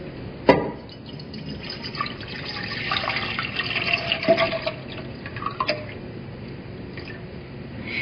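Seven cups of 1 or 2% milk poured into a pot, a soft steady liquid splashing and gurgling with a few louder drips and knocks, close and moderately loud, without talking.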